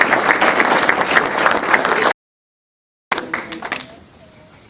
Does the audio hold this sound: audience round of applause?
yes